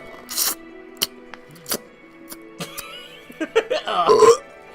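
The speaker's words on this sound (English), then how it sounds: "That was a real burp." A person lets out a real burp, a short voiced belch standing out near the end amid scattered clicks and game sounds, with talk elsewhere in the clip.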